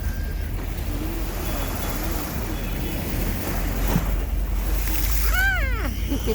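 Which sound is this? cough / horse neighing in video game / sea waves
sea waves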